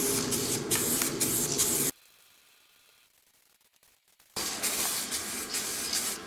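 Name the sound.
spraying paint onto BMW V12 engine metal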